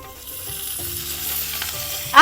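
Watermelon seeds sizzle and splutter in hot oil in a pan for a pounded chutney, a steady crackling fry that swells to a louder burst of popping at the end.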